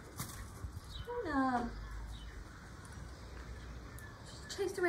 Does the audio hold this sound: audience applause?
no